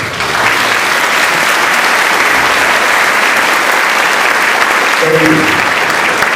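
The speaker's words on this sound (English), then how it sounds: "Let's give them a round of applause." Loud, dense applause from a seated crowd of school delegations at Locke High School, a steady roar of clapping filling the whole stretch, with a brief spoken voice breaking through near the end.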